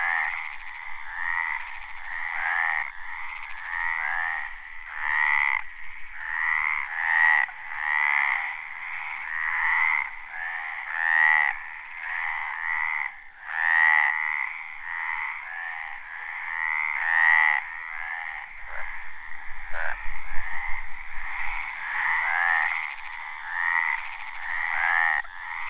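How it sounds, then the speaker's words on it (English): A frog from Monfragüe National Park, Spain, among the loudest-voiced European amphibians, croaking in a dense, continuous chorus of rapid rasping calls that stays loud and close for the whole stretch, with no voices. "this frog is one of the European amphibians with the most powerful voices"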